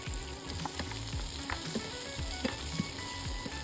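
Garlic and onion frying in a pan for pork ribs kaldereta, a steady close sizzle broken by stirring scrapes and light utensil knocks.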